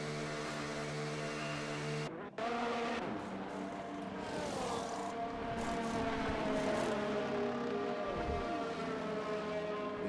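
Race cars roar around the Imola circuit in the F1 24 video game, with several engines sweeping up and down in pitch as they pass. The sound is loud and continuous, with a brief dip near the start.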